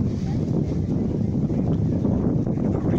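Strong wind buffeting outdoors at a lakeside drone flight demo, a loud, steady low roar rushing over the microphone without a break.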